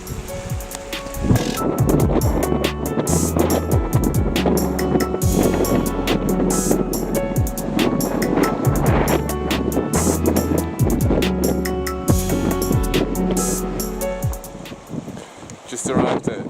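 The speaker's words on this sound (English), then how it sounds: "Way too windy to be talking to the camera most of the time." Strong wind in the Peak District buffets the microphone with loud, continuous roaring gusts that swell and fade, and a voice is faintly audible beneath it.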